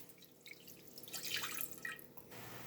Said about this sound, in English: Now we're going to kill it with about a cup beef broth.